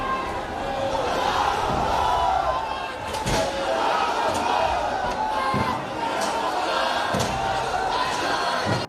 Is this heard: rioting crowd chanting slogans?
yes